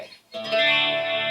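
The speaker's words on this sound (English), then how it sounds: "so this is the jazz chorus sound." A guitar runs through the jazz chorus amp model of a Boss GT-1000 processor, ringing out as a sustained, shimmering chord after a brief quiet gap, fairly loud and alone with no talking.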